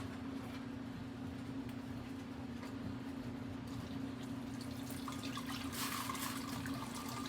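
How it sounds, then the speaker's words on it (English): Boiling water pours steadily over ackee in a container, a continuous hissing trickle with a low hum beneath, quiet and unbroken throughout. "I am going to go ahead and pour the water over the ackee."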